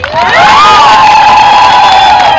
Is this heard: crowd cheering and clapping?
yes